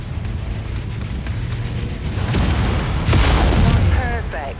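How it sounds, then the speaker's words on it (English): A generator blowing up in MechWarrior 5, a heavy booming explosion that swells out of rumbling combat noise, with talk and radio chatter around it. "With the generator blown, the turret should be disabled now"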